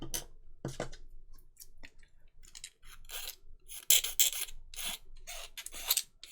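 Short rasping scrapes and clicks as excess material is shaved off a plastic Colonial Viper Mk II model kit part, in close, irregular bursts with no talking.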